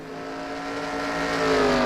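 Race cars in the NASCAR Racing 2003 game: a steady, loud engine drone that swells and climbs slightly in pitch as the pack runs close together.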